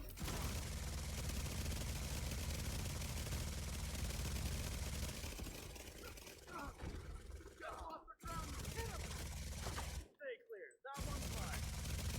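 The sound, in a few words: light machine gun fire in a video game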